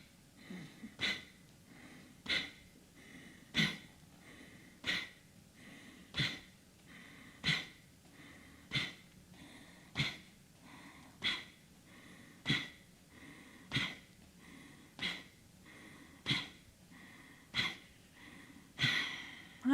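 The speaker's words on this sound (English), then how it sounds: "with the mouth closed, with the lips closed, find that snoring, Darth Vader, slightly out of breath" Slow, rhythmic breathing through closed lips, with a raspy, snore-like Darth Vader hiss on each breath during a Gyrokinesis exercise. Around fifteen evenly spaced breaths are heard close and alone.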